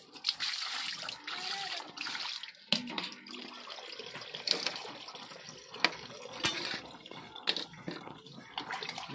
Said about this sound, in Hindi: अब मछली हम बढ़िया से धो लेते हैं।